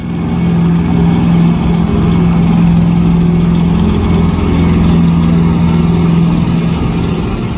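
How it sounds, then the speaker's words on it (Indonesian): A steady, loud, low engine rumble drones continuously with a strong deep hum, like a heavy tracked vehicle idling nearby. "Tank baja."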